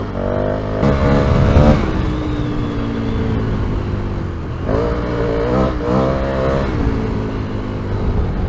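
A KTM 1290 Super Adventure S motorcycle engine drones and revs on a hot lap at an adventure bike festival, rising and falling in pitch, loud and steady, heard from the rider's position.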